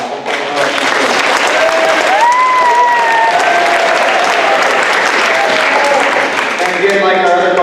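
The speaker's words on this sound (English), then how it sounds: "Let's give a round of applause for" Sustained applause from a crowd at a high school homecoming coronation, steady clapping filling the space with a few voices and whistles mixed in.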